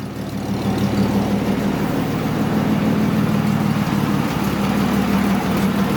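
A 100-year-old Chrysler engine runs steadily with a low, continuous rumble that holds close and loud for the whole stretch, with no voices over it.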